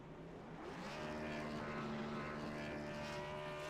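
Race car doing a burnout at a National Series round in Las Vegas, a steady, loud engine drone with a sustained tonal whine that swells slightly and holds throughout, no talk over it.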